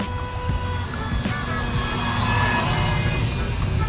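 An FMS Kingfisher 1400mm RC plane flies with a steady, continuous motor drone and whine heard from a moderate distance over constant outdoor background noise.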